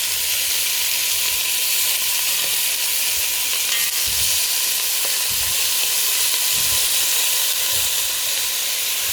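Veal sears in a hot pan with a steady, dense sizzling hiss that holds at an even level throughout, broken only by a few soft low thumps as the meat is moved.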